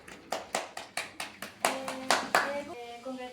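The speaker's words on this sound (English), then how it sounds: "Okay, student, give applause." Students in a classroom clap in a loose, rhythmic unison, about a dozen sharp claps close by, with a few children's voices and a sung note rising over the last claps.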